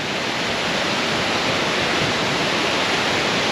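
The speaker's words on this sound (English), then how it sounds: "this looked like a much more photogenic waterfall" McIntyre Falls pours in a steady, dense broadband roar of falling water, loud and close, unbroken for the whole stretch with no voices.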